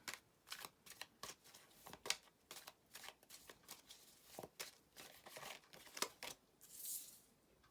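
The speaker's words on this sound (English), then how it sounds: "as I'm shuffling" Tarot cards are shuffled by hand in quick, irregular riffling bursts, close and fairly soft, with no one talking.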